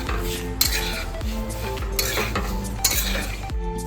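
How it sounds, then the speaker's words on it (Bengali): Lentils being lightly fried and stirred in a pan, with a utensil repeatedly scraping and clinking against the metal every half second or so over a steady low sizzle, close and moderately loud. "ডালটাকে একদম পুরো হালকা করে ভাজবো, বেশি ভাজবো না"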